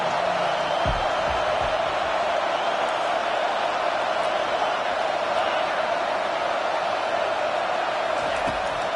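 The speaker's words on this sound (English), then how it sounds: "Decibels rising as the crowd gets behind this defense on 3rd down." A football stadium crowd roars steadily behind the defense on third down, a thick, sustained wall of noise that stays level throughout, with a commentator talking over it.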